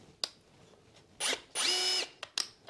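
A Hikoki 36V Multivolt brushless impact driver fired in short bursts, a brief whir followed by a longer sustained whine, with small clicks and handling taps between the runs, close and fairly quiet.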